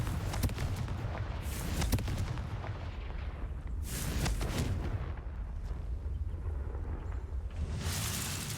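Confringo explosive spell fired in the video game Hogwarts Legacy, a series of booming blasts and crackling bursts over a rumbling game backdrop, with several sharp impacts spread across the moment and no talk.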